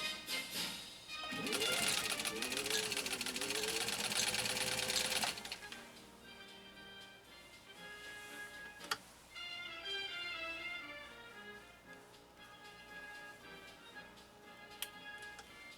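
A Singer 15-91 sewing machine stitches through eight layers of heavy denim, a loud rapid whirring run at first, then slower ticking stitches and quieter mechanical clicks close by.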